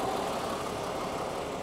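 A 1953 Mercedes 300 S Cabriolet engine idling smoothly, a quiet, even hum that holds steady without surges or roughness.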